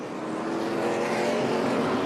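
NASCAR Craftsman Truck Series race truck going by on track, a brief steady engine roar heard at some distance, fairly faint and alone.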